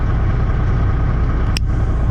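A truck engine idling with its cooling fan engaged, giving a loud, steady, close rumble and whoosh with one brief high click near the end.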